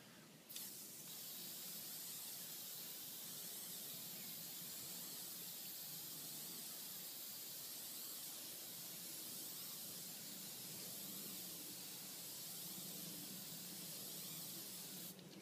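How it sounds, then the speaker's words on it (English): Mold release sprayed onto a mold during a composite model layup, a steady continuous aerosol hiss running alone and evenly for the whole stretch, fairly faint, with a brief break near the start. "the object when spraying the mold release on is to get three or four really good coats without any runs or sags"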